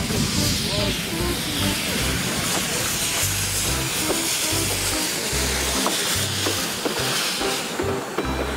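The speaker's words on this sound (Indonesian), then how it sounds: "Kereta Thomas." A hissing, chuffing steam-like sound runs continuously with rhythmic low pulses, like a small toy Thomas the Tank Engine steam train puffing along.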